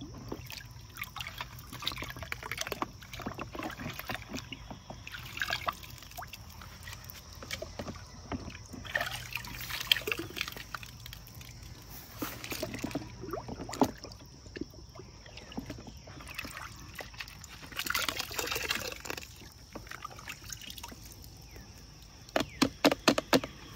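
Soapy water sloshing and trickling as chemical-resistant nitrile gloves and other items are rinsed in a basin, with irregular splashes and drips nearby and no talking.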